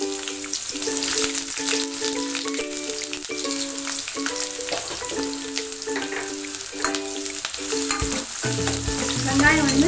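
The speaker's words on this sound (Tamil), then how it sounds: "இப்போ வந்து ஒரு மீடியம் சைஸ் நறுக்கி வச்சு வெங்காயம் போட்டுருவோம்." Chopped medium onions frying in hot oil with fennel seeds for a South Indian chicken gravy, giving a steady close sizzle throughout with melodic background music alongside.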